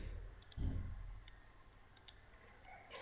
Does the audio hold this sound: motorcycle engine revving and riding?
no